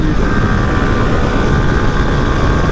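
A motorcycle engine with a dusty, loud rear exhaust silencer drones steadily and roughly at close range, a constant heavy rumble with no pauses.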